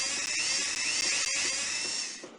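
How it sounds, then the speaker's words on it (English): A power drill in the 1998 PC game Tonka Workshop bores holes into a sled, making a high, shrill whine that wavers in pitch, breaks off briefly several times, and fades out at the end. "You'll need to use your drill to put 2 holes in the front for the rope."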